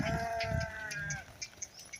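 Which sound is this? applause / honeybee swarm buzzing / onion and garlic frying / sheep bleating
sheep bleating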